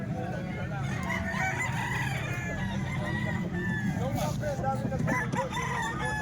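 A golden gray rooster with a street comb crows loudly nearby amid other fowl clucking, while someone talks in the background.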